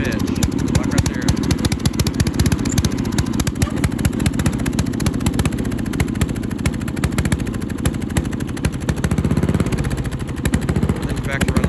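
A Murray racing lawn mower engine runs rich, a loud rapid popping chatter that revs and settles to an idle throughout, with someone speaking over it.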